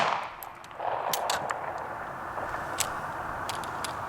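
Springfield Hellcat pistol fired at a shooting range: several sharp, fairly distant cracks spaced irregularly across a few seconds over a steady background hiss.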